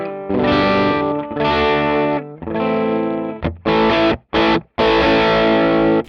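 Electric guitar through a Gokko Salem Boost pedal into an emulated Vox AC30 amp, loud driven chords and single notes with sustained harmonics, broken by a few short stops and quick staccato hits.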